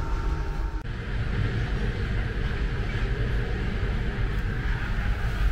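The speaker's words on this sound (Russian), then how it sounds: "Слышно, тоже тут вентилятор работает." A steady, loud broadband whoosh of a ventilation fan fills a Russian Railways passenger train car, a continuous hum and rumble with no pauses or voices.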